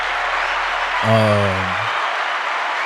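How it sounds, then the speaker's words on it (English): Audience applause runs as a steady wash of clapping throughout, joined midway by a loud sustained low tonal blast lasting under a second. "Round of applause to her."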